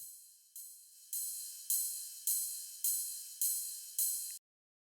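A bright metallic ride cymbal struck eight times at an even pace, each hit shimmering and decaying before the next, then abrupt silence.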